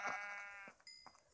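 A sheep gives one clear, wavering bleat close by, followed by a shorter, fainter call, with no talk.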